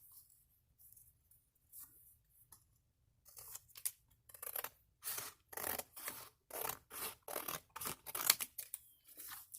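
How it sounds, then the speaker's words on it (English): Scissors snip through a strip of material for a DIY silicone jewelry mold, starting with a few faint cuts and then moving into a rapid, regular series of crisp close snips, with no voices. "It's almost big enough, but not quite, so I'm going to cut another strip."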